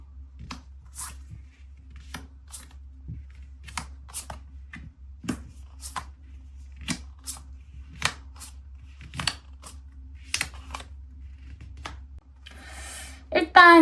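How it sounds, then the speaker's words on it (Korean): Tarot cards handled and flipped over at close range, giving a sparse series of crisp snaps, slides and soft paper flicks spread across the stretch, ending in a denser rustle. "카드 한번 오픈해 볼게요"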